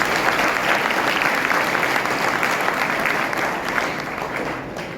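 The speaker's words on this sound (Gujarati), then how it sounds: "તો આ દરેક વિદ્યાર્થીઓ માટે ખૂબ ખૂબ તાળીઓ." Sustained applause from a school ceremony audience honouring Class 10 and 12 board exam achievers, a dense steady wash of clapping hands at even loudness throughout, easing slightly toward the end.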